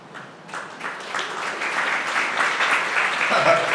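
An audience at a Chicago market annual meeting breaks into applause, the clapping building quickly and holding steady and fairly loud for a few seconds.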